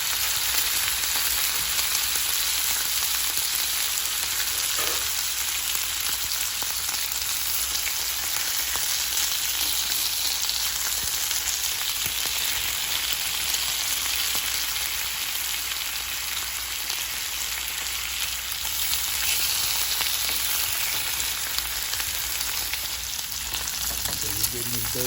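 Bacon browning and rendering its fat in a pot for tomatoes and grits, giving a steady, close, continuous sizzle and crackle with no talking over it.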